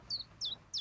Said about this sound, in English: Ta-da! One chirp in a jar.